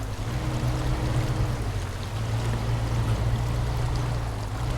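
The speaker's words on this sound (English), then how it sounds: "we've got to cross some river here" In SnowRunner, a truck with a low air filter and no snorkel fords a river, a steady rush of churning water over a low engine drone, constant and close.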